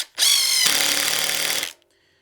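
A Ryobi ONE+ HP impact driver, set on its number 2 setting, drives a 3.5-inch screw in one loud, continuous burst of hammering rattle lasting about a second and a half, then cuts off into quiet.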